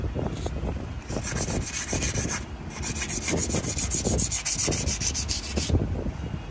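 A glazed, slightly used brake pad is sanded to etch its surface, giving a steady close scratchy rubbing with short repeated strokes throughout.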